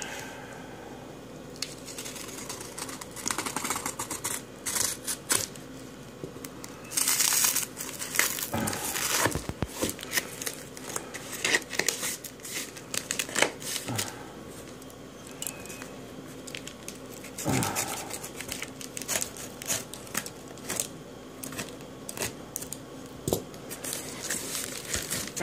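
Packaging of an eBay comic book order being cut open and unwrapped, close crinkling, crumpling and tearing of plastic and paper in bursts with small handling taps throughout.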